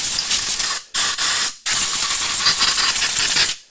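Carburetor cleaner sprays from an aerosol can into a carburetor in loud hissing bursts, three blasts broken by short pauses, the last one long and steady.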